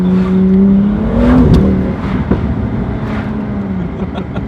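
BMW M2 engine revving and accelerating hard, a loud near engine note rising steeply, then dropping after a shift into a rougher, fluttering drone with scattered pops.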